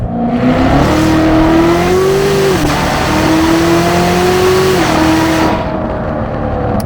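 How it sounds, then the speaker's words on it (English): A C7 Corvette Z06 engine roars during a hard second-gear rolling acceleration, its pitch climbing steadily, dipping briefly twice, then climbing again, loud and close. "what you want to do is a second gear rolling acceleration"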